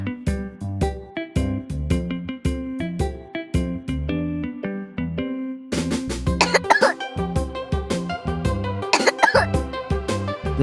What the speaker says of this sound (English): The sound of coughing.